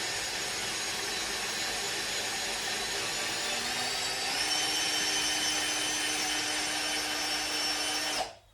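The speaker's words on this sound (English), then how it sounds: "Drilling." A power drill whirs steadily as it bores into a plastic fender part from a Triumph Tiger 1050 SE motorcycle, its motor pitch shifting slightly midway before it cuts off abruptly.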